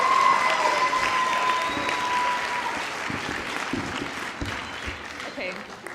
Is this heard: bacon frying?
no